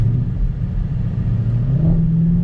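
A 2020 Ford Mustang Shelby GT500 engine under throttle, a loud, close, continuous deep rumble whose pitch climbs steadily as the car accelerates, with no voices over it.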